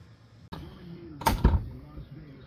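Door of a 1983 Porsche 944 being operated, a sharp clunk after a faint mechanical shift, heard close up with a little background noise.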